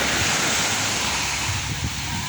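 Sea waves wash onto a Jamaican shore at night, a steady, dense roar of surf with constant hiss and low rumble, close and unbroken, with no voices over it.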